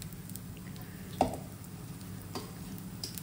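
Bread dosa batter frying on a hot tawa griddle gives a low, steady sizzle throughout, with a soft scrape or tap near the middle and faint ticks, and no voices.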